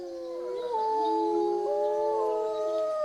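Wolves howl back after a man's imitation howl, several long, overlapping, gliding tones rising and falling together, steady and moderately distant, with no talk.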